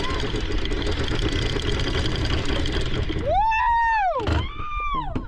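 A steady low small-sailboat engine rumble idles at low revs, close by, with a voice calling out briefly near the end.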